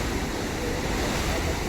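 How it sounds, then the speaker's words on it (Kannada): Ocean waves break and wash continuously onto the shore near Dhanushkodi, a dense, steady roar with heavy low rumble and wind buffeting the microphone throughout. "3 ಅಲೆಗಳು ಒಂದೇ ಸಲ ಬರ್ತಿದೆ."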